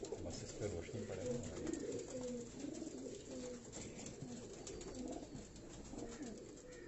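Pigeons kept on a Karachi rooftop coo in soft, repeated rolling calls, steady and fairly close, with a faint voice in the background.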